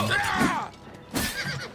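Two loud, close horse neighs from the game Oblivion Remastered, each about half a second long and separated by a brief gap.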